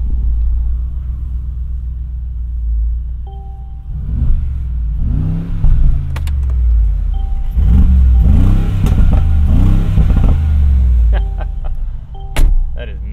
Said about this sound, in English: what G63 sound test would be complete without getting a little sample of those side exiting exhausts?